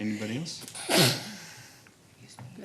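A person sneezes once, sharply, in a meeting room, set among brief talk from others nearby.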